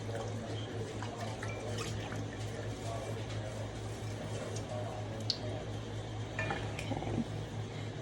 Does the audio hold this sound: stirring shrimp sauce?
yes